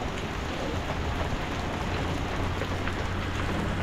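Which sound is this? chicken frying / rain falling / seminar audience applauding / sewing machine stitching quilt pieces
rain falling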